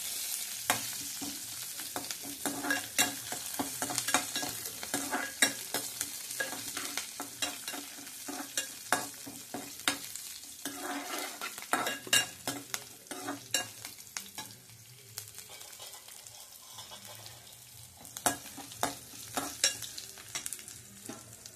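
Curry leaves, cumin, dried red chillies and green chillies fry in a hot pan, giving a continuous sizzle broken by repeated sharp scraping strokes of stirring, close and fairly loud throughout, with no talking.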